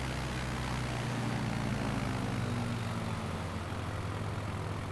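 Propeller airplane engine in Microsoft Flight Simulator on Xbox Series X, heard during a low pass over water before a water landing: a steady, loud drone with a low, slightly wavering hum that holds throughout.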